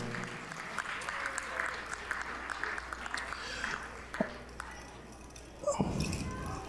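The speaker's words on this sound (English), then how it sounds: "How about a big round of applause for all our students who are being recognized this evening?" An evening awards ceremony audience claps for students being recognized, a steady moderate patter of many hands lasting several seconds before tapering off into scattered clinks and room noise.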